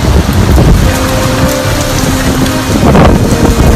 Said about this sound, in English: Storm surge is starting to fill inside the lobby.